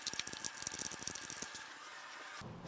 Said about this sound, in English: You have to just use a short 10mm wrench and find that up there and just start to unscrew that bolt.